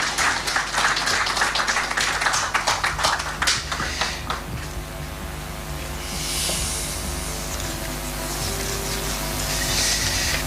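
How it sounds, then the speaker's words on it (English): Audience applause at a Ghana Police Service occasion, a dense burst of clapping in the first few seconds that thins out and fades into quieter room murmur. "Another round of applause, please."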